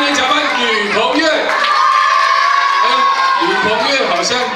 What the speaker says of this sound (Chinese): 吕鹏月好像比较红哦，掌声好大声